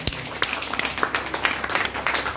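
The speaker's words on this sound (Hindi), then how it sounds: "एक जोरदार ताली आप सभी के लिए" Audience applause at a motivational program in Bhagwanpur, a crowd clapping in a loose, steady patter of individual claps, fairly close and continuous.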